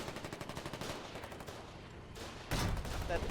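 Gunfire in the war game Foxhole, a steady rattle of rapid automatic shots that pauses briefly and then returns louder and heavier, with no speech.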